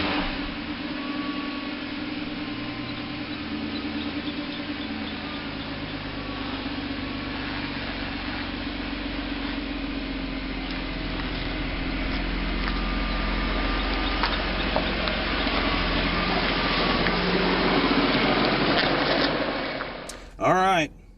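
A 1940 Chevy's engine runs as a steady, even drone on a sunny Indiana afternoon drive, rising slightly toward the end before a brief interruption.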